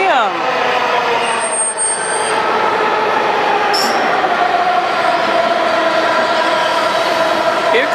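Washington Metro subway train arriving at a station, loud and close, with a rising and falling whine, rumbling wheels and brief squeals as it pulls in, with a voice faintly over it.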